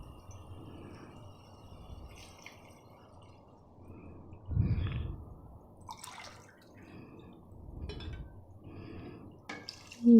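Water from a glass is poured into a cooking pot for aloo matar pulao. Soft splashing and trickling comes in a few short bursts over a low kitchen hum, with a metallic clink near the end.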